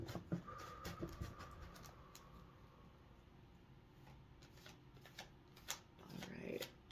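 A tarot deck is shuffled nearby in quick riffling and patting bursts, quiet and soft, while a voice talks faintly in the background.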